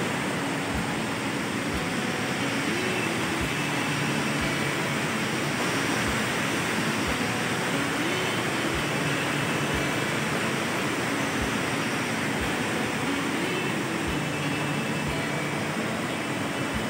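River water pours steadily into a mosque ablution area, a constant broadband rushing that stays loud and unchanging throughout.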